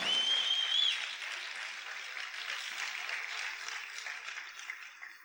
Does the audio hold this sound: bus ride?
no